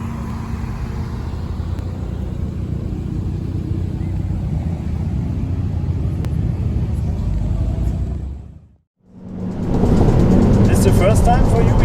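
A Hyundai i30 N idles in the Nordschleife paddock in the evening, a steady low engine rumble that cuts out briefly before returning louder, with a voice speaking over it.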